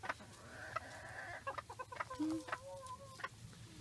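Backyard flock chickens clucking and calling during a grooming session, a run of short, bright clucks and squawks close by with a softer low murmur of the flock underneath.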